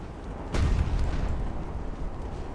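Naval gunfire in the Ultimate Admiral: Dreadnoughts warship game: one heavy low boom strikes early, then a dense rumbling roar carries on under steady battle noise with no talk.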